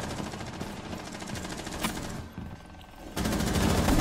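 Video game gunfire crackles in rapid bursts across a few seconds, steady and moderately loud, with no talk.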